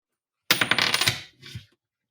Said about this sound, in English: No, I was flipping a coin. It was really loud.